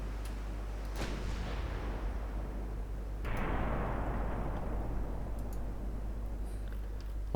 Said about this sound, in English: Let's bring those Mark III 10-inch guns around.